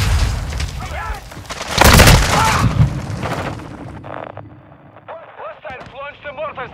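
Mortar strike explosions in Call of Duty: Modern Warfare 2 Invasion: a heavy, booming blast roars up and fades, followed by distant gunfire and an in-game voice speaking over the battle.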